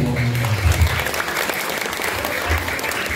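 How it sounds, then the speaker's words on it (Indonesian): Audience at a live comedy show breaking into sustained applause, a dense wash of clapping with a voice briefly heard underneath at the start. "Tepuk tangan dong untuk kita semua"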